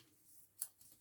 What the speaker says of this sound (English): we're just going to cut those to size.